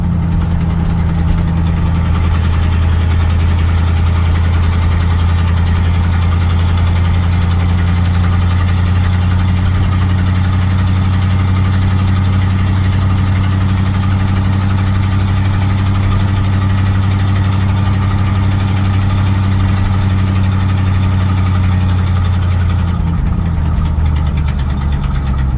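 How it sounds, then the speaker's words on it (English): A 1984 Chevrolet C10 pickup truck with a 305 engine idles steadily after a cold start, a loud, even low rumble that holds for the whole stretch, with a brief rise in revs near the end. "For a 305, this truck doesn't run too bad."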